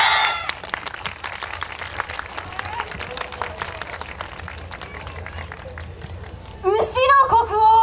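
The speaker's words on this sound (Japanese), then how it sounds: "それではご声援手拍子のほどよろしくお願いします。" Audience applause and clapping at a yosakoi dance performance on a street in Kyoto, a steady run of claps through most of the stretch before a loud voice and music take over near the end.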